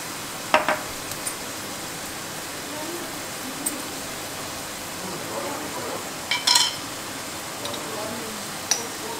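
Chicken keema masala with coriander powder sizzling in a pan, a soft steady fry broken by a few clinks and stirring knocks, under a voice speaking.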